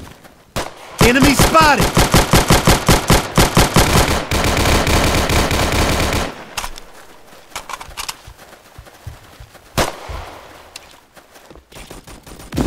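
Automatic gunfire from an M2 carbine in a first-person shooter game, loud rapid bursts for several seconds, then sparser shots and clatter with game voice callouts.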